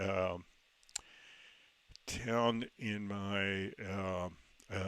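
Computer mouse clicks on a Windows PC, a couple of sharp isolated taps between stretches of a man's speech.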